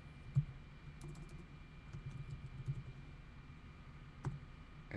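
A few scattered keystrokes on a computer keyboard, faint and spaced far apart over a steady low background hum, with no voices.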